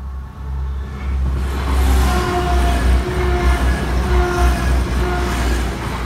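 Great Western Railway locomotive 18108 passing over Barnby level crossing, a steady loud low rumble of engine and wheels close by for the whole stretch, with faint tonal whines above.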